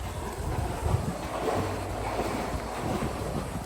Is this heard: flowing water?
yes